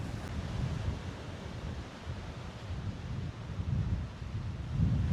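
Rough sea waves churn and wind buffets steadily at a Danish cold plunge spot, a continuous low roar that swells and fades without pause and with no voices.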